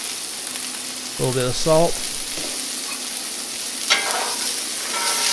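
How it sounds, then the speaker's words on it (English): Onions frying in a pan for a cheesy garlic bread and pasta dish, a steady broadband sizzle running throughout at moderate level, with a voice speaking briefly over it early on. "And let's fry up those onions."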